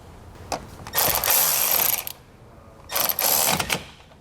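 Ratchet tightening a nut on a battery terminal, two close bursts of rapid clicking, each about a second long, separated by a short pause.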